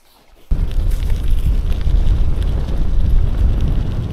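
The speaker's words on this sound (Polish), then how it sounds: "ale wiatr tu niemiłosierny jest" Strong wind on a lakeshore in the Masurian Lake District suddenly roars across the microphone after a brief quiet moment, then keeps up a loud, steady buffeting rumble.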